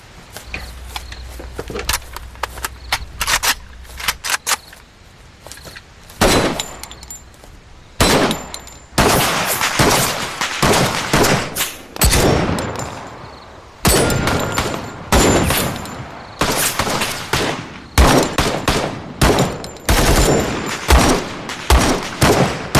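Gunfire in a police drama at a shooting range, with rapid bursts and single shots cracking loudly and repeatedly, building into dense, continuous volleys.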